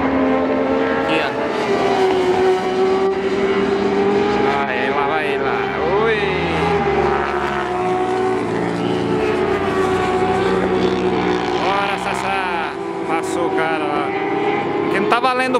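Racing motorcycle at speed on the Road Atlanta track during MotoAmerica practice, a loud, steady engine whine that shifts in pitch as it passes, with people talking over it throughout.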